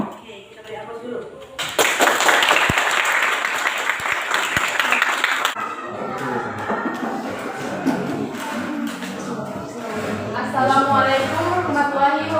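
Applause erupts from a classroom of students, a dense burst of clapping that swells quickly, holds for a few seconds, then gives way to a teacher talking as the clapping fades beneath the voice.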